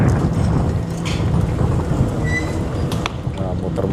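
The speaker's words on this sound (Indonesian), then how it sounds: "Nah, muter-muter anginnya kenceng banget ternyata." Strong wind roars steadily around an outdoor riverside spot at Kali Gabus, a dense broadband rush that stays loud and unbroken throughout, with faint background sounds mixed in.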